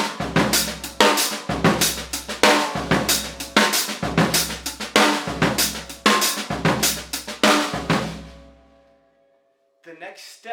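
A Gary Chaffee-style linear pattern played on a full drum kit cycles in a tight, repeating groove of loud, crisp hits, then decays into silence before a brief final strike.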